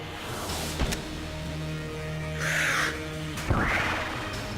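Gatling Gull boss squawking in the video game Enter the Gungeon, two harsh caw-like cries over steady game music and effects, with a brief clatter near the start.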